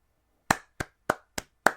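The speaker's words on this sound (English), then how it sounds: "Little round of applause, because it was almost there." Five sharp, separate hand claps ring out at a steady, unhurried pace, close and clear against silence, a brief scattered round rather than sustained applause.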